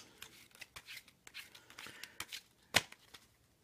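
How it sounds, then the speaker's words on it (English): Soft rapid riffling and flicking of playing cards in a Hindu shuffle by hand, a series of light papery taps with one sharper snap near the end. "And then I also did, for the hell of it, a Hindu shuffle"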